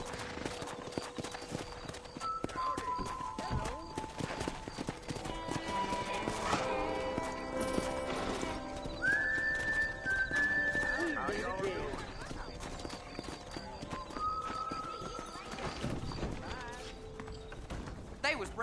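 Horses in Red Dead Redemption clip-clop steadily throughout with a brief neigh or whinny midway, set among ambient outdoor game sounds and faint birds, with voices talking over the hoofbeats.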